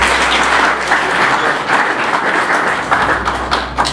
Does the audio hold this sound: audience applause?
yes